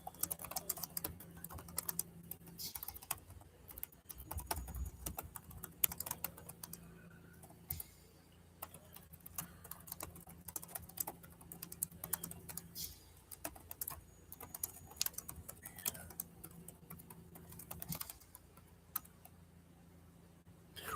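Quiet, fast clicking of keys typed on a computer keyboard, in continuous bursts with short pauses over about twenty seconds, close and fairly soft.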